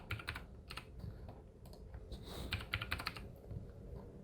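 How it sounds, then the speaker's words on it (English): Typing on a computer keyboard produces a quick, steady run of close key taps and clatter over a low background hum, with no speech. "I'm going to type in Lumetri"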